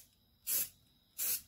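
Red spray paint hissing from an aerosol can onto old 15 lb dumbbells being restored, in two short bursts about half a second each, separated by a pause, fairly close.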